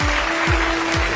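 An audience applauds as Acharya Pratishtha is welcomed onto a stage at a ladies-and-gentlemen style event: a short, steady wash of clapping with a faint constant hum beneath.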